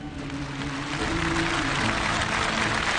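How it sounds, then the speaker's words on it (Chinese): Warm applause from a Chinese television studio audience welcoming child earthquake survivors, a dense continuous wash of many hands clapping that swells slightly louder after the first second; a soft tonal hum sits beneath it. "让我们大家用热烈的掌声欢迎他们"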